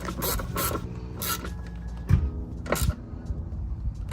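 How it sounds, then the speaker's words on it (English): Two bolts being tightened down onto the fuel line bracket of a Honda Civic Type R while installing a Mishimoto catch can, heard as close ratchety metal clicks and knocks in a workshop setting. "Tying these 2 bolts down that we removed off the fuel line bracket."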